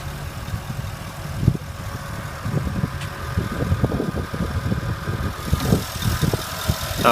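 A 2014 Porsche Cayenne GTS with a 4.8 liter aluminum-block V8 idles with the hood open, a steady, close, low rumble with a slightly uneven mechanical pulse and no voices.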